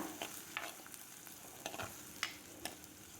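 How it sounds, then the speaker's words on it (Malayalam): Ginger and garlic sautéing in a pan: a soft steady sizzle with periodic scrapes and stirs of a spoon, close and quiet, with no talking. "വെളുത്തുള്ളിയും കൂടെ ചേർത്ത് നന്നായിട്ടൊന്ന് വഴിച്ചാം"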